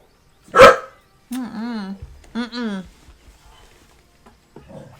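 A dog indoors in a microphone room gives one sharp loud bark, followed by whining, moaning vocal sounds that may be a person imitating the dog, then quieter fading noises.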